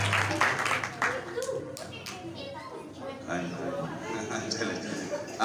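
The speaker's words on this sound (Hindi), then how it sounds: "पूरी ताली बजाएंगे, जोर हालेलुया।" A church congregation claps together during worship, with a dense burst of overlapping hand claps and voices calling out, loud and close at first and then settling into a busier murmur of claps and chatter.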